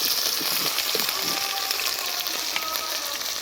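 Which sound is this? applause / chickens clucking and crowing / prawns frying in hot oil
prawns frying in hot oil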